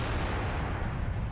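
A Type 59 tank's cannon shell bounces off enemy armor in World of Tanks, giving a single short, heavy booming burst that rings out briefly.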